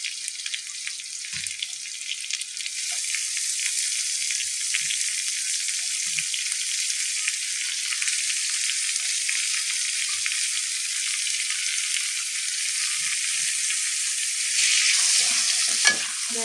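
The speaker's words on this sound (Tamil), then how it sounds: "வெங்காயம் வதங்கிட்டு இருக்கு." Onions and tomatoes sauté in a pan for goat booti fry, giving a steady, close sizzle with occasional stirring scrapes and soft clicks throughout, with no talking.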